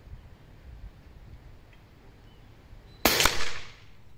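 A single sharp shot rings out from an R3 800 bullpup PCP air rifle in 6.35 caliber during outdoor target shooting, a loud crack with a brief decaying tail after quiet background.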